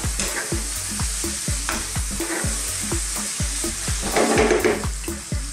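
Garlic ginger paste, about a heaped teaspoon, sizzles loudly in a frying pan for beef curry, with a steady hiss broken by regular scraping stirs and a brief surge of crackling near the end; no talking.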